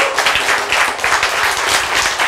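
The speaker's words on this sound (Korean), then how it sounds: "박수. 이렇게." Applause from an audience at a Korean sermon or lecture, a steady dense patter of many hands clapping at close range, loud and continuous throughout with no talk over it.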